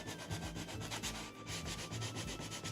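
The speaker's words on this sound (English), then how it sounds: "And parts where the paint is too harsh, go over with the sandpaper." Sandpaper rubbed over painted wood on a decorative chest, steady rhythmic back-and-forth scratching strokes, close and fairly quiet, with no talking.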